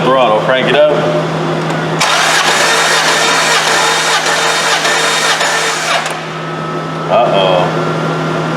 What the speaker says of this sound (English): All right, wide open throttle, crank it up.